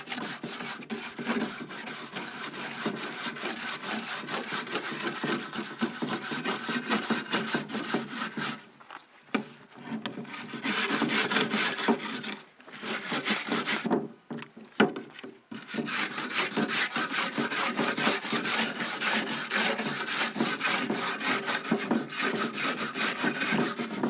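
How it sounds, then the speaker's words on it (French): Wire brush scraping charred surface wood during yakisugi, stripping off the burnt layer: continuous close, harsh bristly rasping with a few brief pauses and shifts in stroke, no voices. "on vient gratter avec une brosse métallique. On retire tout le charbon de surface."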